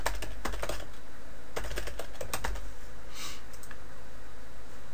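Rapid keystrokes on a computer keyboard while an email address is entered, clustered bursts of close clicking with brief pauses between, alone with no talk.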